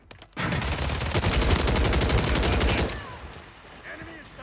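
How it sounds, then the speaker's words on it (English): Rapid, loud sniper and automatic gunfire crackles in a video game shootout, a dense burst lasting a few seconds before cutting off into quieter game ambience. "Oh, I'm being sniped at."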